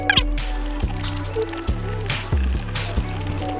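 Two litres of water poured into a motorhome's waste tank, a gurgling, splashing stream with irregular glugs and drips, close and steady throughout.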